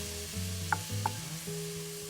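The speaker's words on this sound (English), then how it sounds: "I'm just stirring occasionally so nothing gets too browned." Chili meat frying in a pan and stirred with a utensil, a soft steady sizzle with a couple of light scraping knocks against the pan, close and quiet, no voices.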